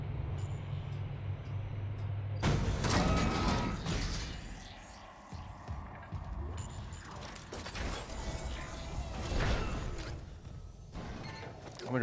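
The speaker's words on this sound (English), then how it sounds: "Is this an elevator? Okay, cool. We're going up." Elevator machinery in the video game Dead Space grinds and creaks as the lift rises, a continuous mechanical rumble with clanking and ratcheting bursts, fairly loud throughout.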